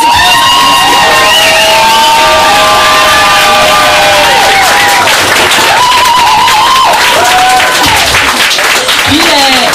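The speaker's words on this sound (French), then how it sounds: "C'est un petit applaudissement pour tout ça." Loud crowd applause and cheering at a student strike report launch, with whoops and high shouted voices rising over continuous clapping throughout.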